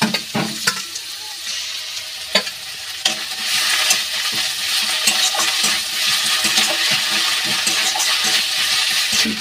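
Ginger paste and chopped chillies fry in hot oil in a pan, with a steady close sizzle broken by repeated sharp scrapes and knocks of a spoon stirring against the metal.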